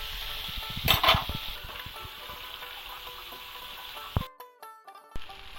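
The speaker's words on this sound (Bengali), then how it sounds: "তারপর চিংড়ি মাছটা ভাজা হতে থাকুক" Prawns rubbed with turmeric and salt frying in oil in a pan. A steady sizzle runs under a louder burst of bubbling and stirring near the start, then cuts off abruptly, leaving a few light metallic clinks near the end.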